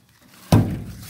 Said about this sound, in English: you can close the door from the outside